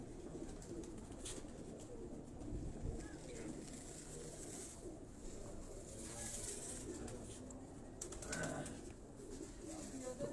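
Soft pigeon cooing murmurs through a busy background, with faint rustling and occasional wing flutters, steady and moderately quiet throughout.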